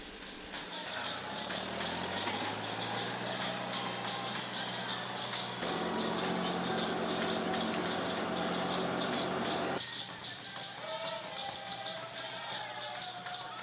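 Agricultural tractor engine running steadily with a low, constant drone that changes tone twice, fairly loud and near, with voices talking over it.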